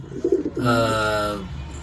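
A racing pigeon gives a short, close coo: a few soft throaty pulses followed by a longer rolling call.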